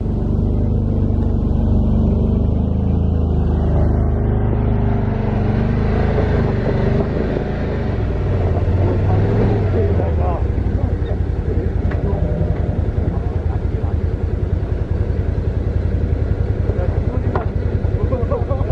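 A Kia Bongo 3 4WD truck crawling over rough off-road terrain in Gangwon-do, a heavy continuous engine and drivetrain rumble with rattling body jolts, loud and close throughout, while people talk over it.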